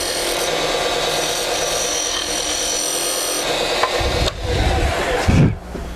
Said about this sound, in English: what I'm doing really is the toe of the skew is almost kind of acting like a scraper